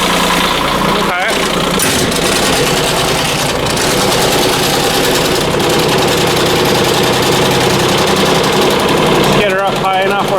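A Kubota K008 mini excavator engine idling, loud and close with a steady rumbling drone and slight knocking throughout, briefly broken by a faint voice near the start.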